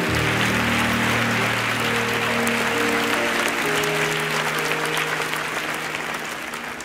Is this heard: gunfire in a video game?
no